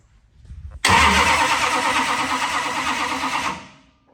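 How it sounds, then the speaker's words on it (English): Long-sitting 1941 Willys engine with no fuel, cranked over by the starter: quiet handling noises, then a sudden loud, rhythmic churning crank that runs steadily for about three seconds before stopping without firing. "I just want to hear it crank."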